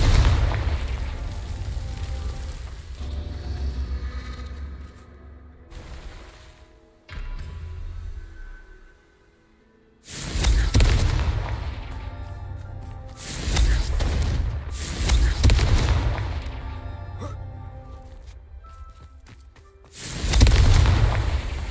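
Loud booming spell blasts from a Harry Potter video game, several heavy explosions bursting in clusters with rumbling tails, separated by brief quieter gaps.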